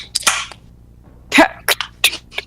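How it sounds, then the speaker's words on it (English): A cold drink can is cracked open at a tabletop role-playing game session: a few sharp snaps and short hissing bursts stand out against a quiet room. "Tiffany's cracking open a cold one."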